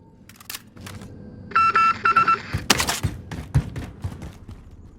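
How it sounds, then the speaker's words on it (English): A Morse code style jingle plays from a telephone in Call of Duty Warzone, a short run of beeping tones amid clicks and a few sharp thuds, loud and close. "you'll hear this sort of Morse code sort of jingle afterwards"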